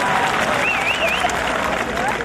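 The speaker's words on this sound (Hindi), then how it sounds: "ताली बजाओ यार, ऐसे मजा नहीं आएगा।" Audience at a Hindi kavi sammelan comedy poetry recital breaking into dense, continuous applause, many hands clapping loudly and evenly throughout, with a faint whistle rising over the crowd.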